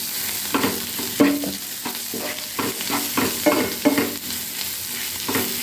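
Ginger and chili powder being stirred in a hot pan for boiled egg curry: repeated scraping strokes of a spoon against the pan in an irregular rhythm over a steady close sizzle, with no talking.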